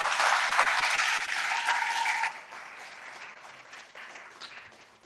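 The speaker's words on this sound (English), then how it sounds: "just give them a quick round of applause" An audience at a robotics competition awards ceremony claps in a quick round of applause, loud and dense at first, then thinning out and fading after about two seconds.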